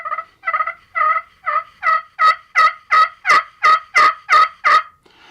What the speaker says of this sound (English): what were to happen if we just come right in on top of it and try it with our striker?